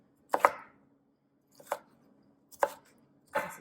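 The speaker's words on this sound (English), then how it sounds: "I would dice them up" Knife dicing tomatoes for tabouli on a cutting board, four separate crisp chopping strokes, some landing as quick double taps, close and clear with silence between them.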